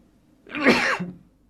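A single sneeze from a man with a cold, close and fairly loud, a short sharp burst followed by a brief voiced tail, alone in a quiet room.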